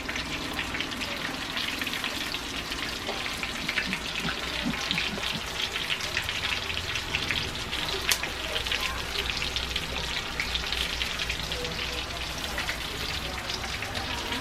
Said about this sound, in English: So there we go. Deep fried prawns.